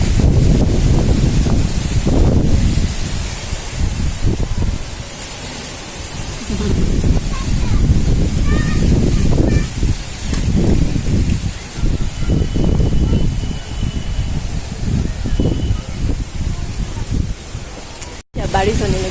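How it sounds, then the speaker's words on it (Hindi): Strong storm wind gusting through tree branches and leaves outdoors, a loud roaring rush that surges and eases in waves, with some voices in the background. "वो देखिए कैसी हवा बह रही है।"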